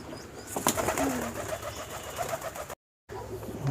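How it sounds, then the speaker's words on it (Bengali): Pigeons coo softly at a rural home, low repeated calls against a faint background hum, followed by a brief gap of silence. "কবুতরের ডাক খুবই সুন্দর লাগে, দেখি ধরার চেষ্টা করি।"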